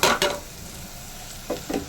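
Crushed mango stirred into a chili masala in a pan over a low flame, with a soft sizzle beneath a few distinct scraping strokes of a spoon near the start and end.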